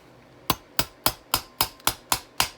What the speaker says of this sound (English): Tap them down with a brass hammer.